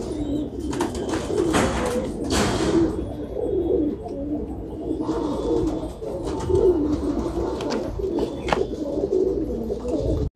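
Rangeen Sherazi breeding-pair pigeons coo in low, throaty murmurs that repeat steadily, with several birds overlapping amid faint rustling and background bustle, in Hyderabad.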